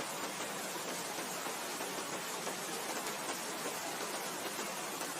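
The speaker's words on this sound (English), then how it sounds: "The rain's picking up now." Steady rain falls continuously in a dense, even wash of sound, close and moderately loud, with no voices or other sounds standing out.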